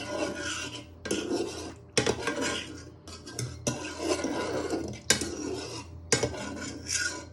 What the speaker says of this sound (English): you want to give this a little bit of a stir